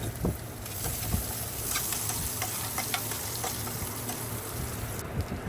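Chopped onion and a bay leaf frying in hot oil in a kadai, a dense continuous sizzle and crackle with scattered sharp pops, close and loud throughout, no voices over it.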